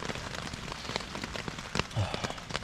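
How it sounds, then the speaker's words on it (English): Steady rain patters on the taut fabric of a LanShan 2 tent overhead in woodland, a dense close tapping with scattered heavier drops. "It's been raining all night."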